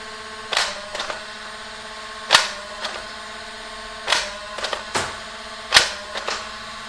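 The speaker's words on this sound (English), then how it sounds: "I'm keeping the blaster level, and I fire." Spring-powered Airstrike Thunderstorm toy blaster shoots four times, each shot a sharp loud crack followed by a short clattering rattle, with no talk.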